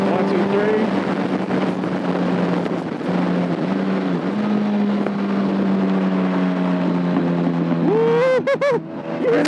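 A Yamaha R1 motorcycle on the move, with a steady droning engine note under heavy wind noise, then a rising rev with a brief burst of crackling exhaust pops near the end.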